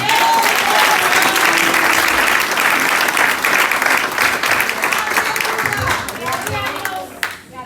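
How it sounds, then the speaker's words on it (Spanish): A crowd applauds steadily and loudly, a dense wash of clapping that slowly thins out toward the end, with a voice faintly under it. "Dale un aplauso al Señor"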